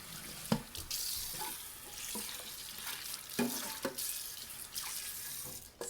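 Stainless steel cookware rinsed under a running kitchen tap, a steady splashing water stream with scattered clanks of the pan against the sink, fairly quiet and close.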